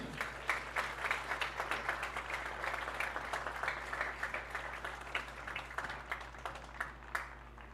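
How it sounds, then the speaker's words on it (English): Applause from a crowd at a high school soccer match, honoring first responders, heard faint and distant with scattered claps over a steady low hum, continuing for several seconds. "Once again, a nice round of applause for our first responders."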